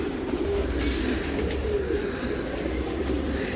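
Many racing pigeons gathered inside a loft in Mirpur, Dhaka, keep up an even, dense cooing drone with faint scattered chirps, close by and unbroken, no voices present.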